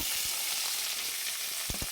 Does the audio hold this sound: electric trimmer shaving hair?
no